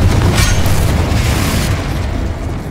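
A Confringo spell blast in Hogwarts Legacy lands as a loud, deep boom that rumbles straight away and then thins into a fading, roaring tail over a couple of seconds.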